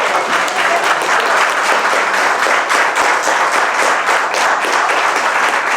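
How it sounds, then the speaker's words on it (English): Loud, sustained applause from a large crowd fills the hall, dense and continuous from start to finish, celebrating a children's book author at a book release event. "I would like some extra cheer from a lot of JVTians here to Usha."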